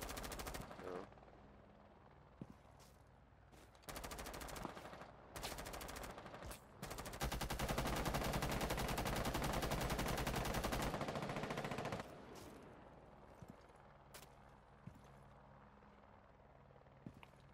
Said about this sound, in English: I just shot loads of bullets.